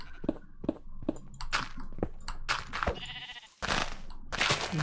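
Sheep in a Minecraft-style video game bleating after being struck, a run of sharp repeated bleats and short tapping hits close up, with game sounds between them and no talk.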